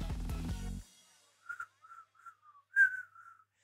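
A person whistles a short, hesitant tune of several separate thin notes, fairly quiet and alone, following a brief burst of other sound at the start.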